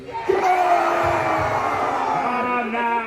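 A large outdoor crowd at the Wars of the Roses live show at Warwick Castle roars and cheers, a sustained swell of massed voices with yells and whoops rising abruptly and holding loud to the end.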